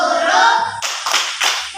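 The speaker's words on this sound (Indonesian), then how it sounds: "Kita tepuk anak kita untuk kelompok ini" A class of children claps together for a group of classmates, a dense burst of many small hands applauding loudly, then a quick second round of clapping a moment later.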